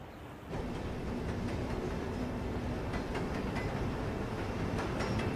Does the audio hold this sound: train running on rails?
yes